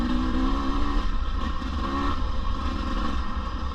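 A 2024 KTM 250 EXC dirt bike, stock apart from an FMF exhaust, runs with a steady buzzing drone and slight revving, close and fairly loud with no talk.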